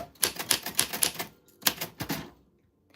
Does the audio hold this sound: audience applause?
no